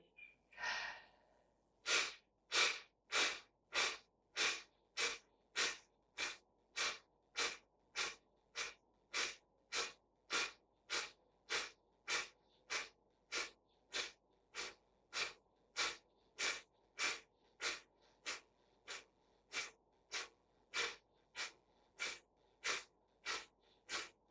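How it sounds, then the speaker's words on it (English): Breath of fire yoga breathing: after a short opening breath, a long run of rapid, rhythmic forceful nasal exhales, about one and a half per second, close and loud, steady to the end with no talking. "we're going to try one more round of the breath of fire"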